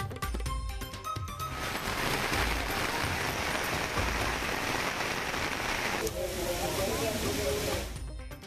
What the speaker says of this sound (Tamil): திருவண்ணாமலை, வேலூர், திருப்பத்தூர் மாவட்டங்களில் பலத்த மழை.